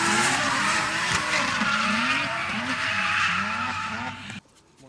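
BMW E30 race cars with 2.7-litre single-turbo engines pass on a circuit, a loud continuous engine roar with tyre scrub that swells and shifts pitch as the cars go by, then cuts off abruptly near the end.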